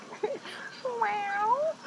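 A human voice imitates a cat, giving a short meow followed by a longer, drawn-out rising and falling meow, close and clear.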